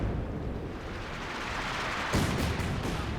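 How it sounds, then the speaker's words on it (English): Light artillery barrage landing in Company of Heroes 2, a steady rumbling battlefield din that breaks into a louder burst of impacts partway through, with several sharp bangs following. "And just as he's retreating, the light artillery is coming down."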